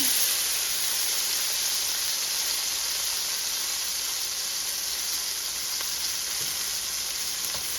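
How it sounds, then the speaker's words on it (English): Garlic and onions frying in a pan for pepper steak, a continuous loud, bright sizzle and hiss holding steady, with no talking over it. "So I'm going to put the garlic in."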